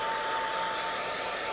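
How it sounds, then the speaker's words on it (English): A hair dryer blows on wet paint to speed up drying, giving a close, loud, steady whooshing roar with a constant motor whine and no break. "I'm going to hit it with a hairdryer to speed it up."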